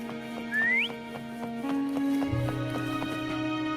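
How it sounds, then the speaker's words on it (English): A brief rising whistle calls a horse in the video game Wuthering Waves, followed by steady rhythmic hoofbeats over sustained tones. "Try whistling."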